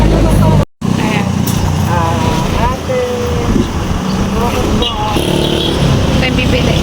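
A car engine runs at an outdoor seafood market, a loud steady motor drone with passing traffic noise that cuts out briefly once, while people talk over it throughout.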